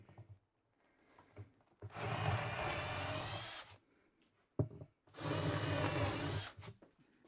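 A power drill drives Kreg self-drilling, needle-point screws into wood during a caster and handle build, in two loud bursts of about two seconds each, separated by a pause with faint handling noise.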